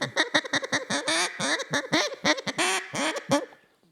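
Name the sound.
duck quacks imitated on a duck call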